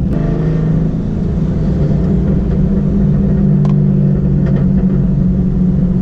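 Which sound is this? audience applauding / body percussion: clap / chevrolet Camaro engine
chevrolet Camaro engine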